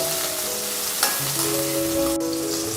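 Onions and garlic sizzle steadily in hot oil for an avarakkai (broad bean) dish, a continuous close crackle with a faint clink of stirring.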